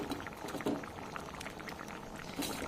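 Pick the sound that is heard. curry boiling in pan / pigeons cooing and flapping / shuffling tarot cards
curry boiling in pan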